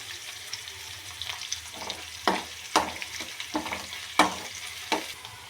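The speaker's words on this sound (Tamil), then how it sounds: "வெங்காயத்தை நல்லா ஃப்ரை பண்ணிக்கலாம். கொஞ்சம் கருவேப்பிலை போட்டுக்கலாம்." Onions and curry leaves frying in a pan, with a steady soft sizzle broken by irregular sharp clinks and scrapes of stirring, close and fairly quiet.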